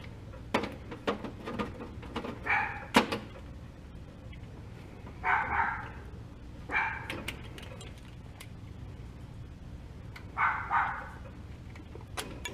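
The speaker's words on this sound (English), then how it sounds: "My dog really likes barking." A dog barks in a few short bursts at moderate distance over a low steady background hum, with scattered small clicks and tool noises from nearby work.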